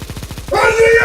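Negev machine gun from the game Counter-Strike: Condition Zero firing in a rapid regular burst of evenly spaced shots, then a loud voice shouting over the continuing fire.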